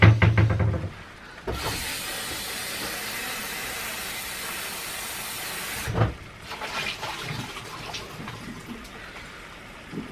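A pan lid is rinsed under a kitchen tap, with a loud, steady rush of running water lasting about four seconds, followed by quieter clatter and handling of the lid.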